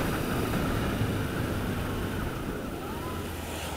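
Steady wind rushing across the microphone, a constant broadband roar with low rumble, no voices or distinct events.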